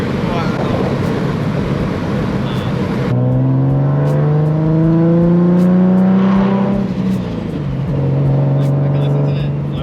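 An 800-horsepower Nissan 350Z during a ride-along, loud turbo flutter chattering on lift-off before the engine pulls through rising gears, heard from inside the car.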